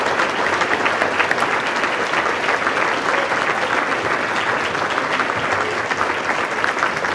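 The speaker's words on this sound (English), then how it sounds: "Please give him a big round of applause." Steady, dense audience applause at a planetarium association awards ceremony as an award recipient is called up, close and continuous throughout with no pauses.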